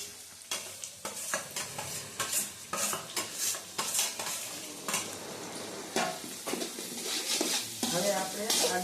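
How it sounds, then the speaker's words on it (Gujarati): Chopped onion is tossed into hot oil for poha and stirred, with a crackling sizzle under repeated metal spoon scrapes and clinks against the pan, close and busy throughout. "હવે આપણે આમાં ડુંગળી નાખીશું"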